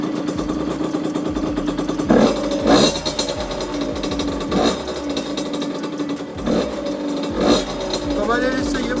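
A Beta 50 moped in a garage is kick-started and brought to life, its small two-stroke engine buzzing and revving in uneven bursts beneath ongoing conversation.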